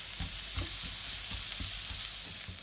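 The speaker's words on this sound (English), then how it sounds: "So my onions have been frying for about 5 minutes" Chopped onions fry in a pan for a chickpea curry, giving a continuous dense sizzle with soft intermittent stirring knocks, steady and close, with no voices.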